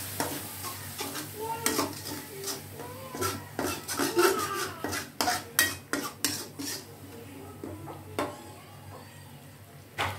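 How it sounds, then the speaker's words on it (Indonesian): A spoon stirs chicken lemper filling in a pan with coconut milk just added, giving repeated scraping clinks of metal on the pan in an uneven rhythm over a faint low sizzle, close and fairly quiet. "Aduk-aduk kembali."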